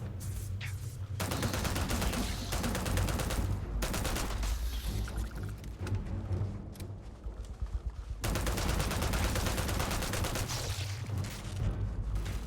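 Sustained gunfire from a firefight in Starfield, loud and dense automatic bursts with heavy booming low end, pausing briefly twice before resuming, alone without talk.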